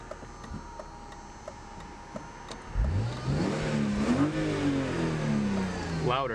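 A BMW E36 with intake modifications sits idling quietly with faint ticking, then its engine revs up sharply into a loud rising roar that climbs and falls, with a person talking at moments.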